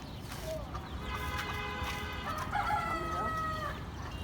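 A chicken calls loudly and repeatedly nearby in drawn-out, squawking clucks over a few seconds, with a person speaking over it.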